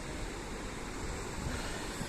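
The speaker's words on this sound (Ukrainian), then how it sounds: "Це хлюпоче океан." Ocean surf washing onto a warm coastal shore in the evening, a steady broadband wash of waves with faint wind noise, close and continuous with no talking.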